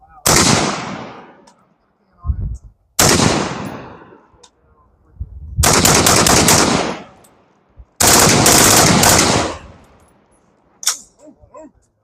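A 10.3-inch 5.56 AR rifle fires suppressed bursts outdoors, with four loud rapid strings of shots, each trailing off in a short echo, and quiet gaps between them.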